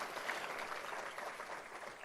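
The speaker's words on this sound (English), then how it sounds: "Can we give a round of applause to the board of directors, to their donors?" An audience at a community address applauds for a board of directors and donors, a steady wash of clapping that sounds moderately distant and fairly quiet.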